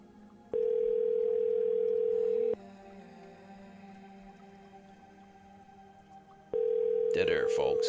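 A telephone line rings while a caller waits for an answer, giving two loud, steady tones separated by a quiet gap, the last tone overlapped by brief sounds.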